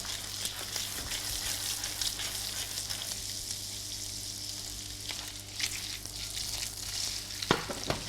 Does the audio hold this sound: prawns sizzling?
yes